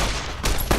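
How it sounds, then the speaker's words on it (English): Gunfire in Fallout New Vegas, a loud burst of rapid shots followed by two sharper cracks near the end, all within under a second, no voices over it. "Why are these people shooting at me?"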